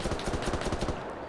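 Sustained rapid MG34 machine gun fire in a WW2 alternate-history shooter game, a loud, steady rattle of closely spaced shots lasting the whole moment without pause.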